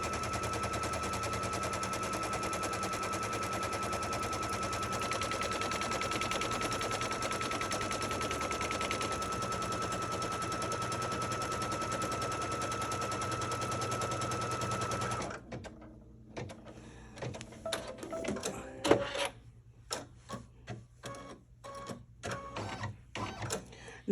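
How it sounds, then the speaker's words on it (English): A sewing machine stitches a batting placement line with light gray thread, a steady fast rattling hum for about fifteen seconds, then short bursts of clicking and handling noises as it stops and starts, nearby, with no voices. "I'm going to start stitching my batting line down, batting placement line."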